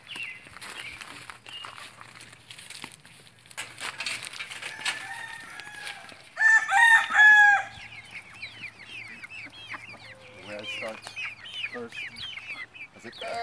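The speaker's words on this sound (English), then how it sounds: "Little chicks." Chickens and small chicks cluck and peep near and far in a barnyard, with footsteps and a louder burst of calls in the middle, and a rooster's crow mixed in.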